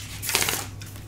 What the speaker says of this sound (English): I'm going to shuffle here and put the intentions into each deck.